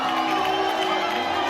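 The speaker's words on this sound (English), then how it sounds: "Oh, because they're booing." Theatre audience in a recorded disturbance, a dense continuous crowd roar of booing and shouting voices, steady and loud throughout with no individual words standing out.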